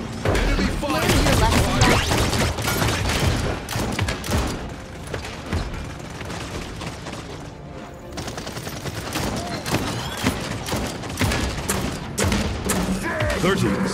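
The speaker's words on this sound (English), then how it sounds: "Enemy fire" Dense rapid gunfire fills a competitive PC battle royale match, bursts of automatic weapon fire and heavy impacts overlapping almost continuously with brief lulls, loud and close throughout.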